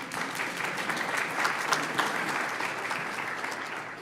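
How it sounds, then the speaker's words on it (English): A room at a city council meeting breaks into steady, moderately sized applause, a continuous patter of clapping hands that holds evenly for several seconds. "It's okay to clap."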